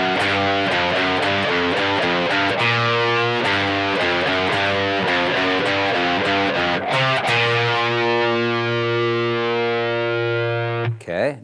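Distorted electric guitar plays phrases from a song, a string of rhythmic picked notes then sustained ringing chords. It is loud, close and continuous, with no talking.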